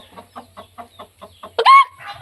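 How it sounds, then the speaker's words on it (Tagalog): A rooster clucks in a quick, steady series of soft notes, then lets out a louder, rising squawk, close by with no talking. "May manok. Lalaki."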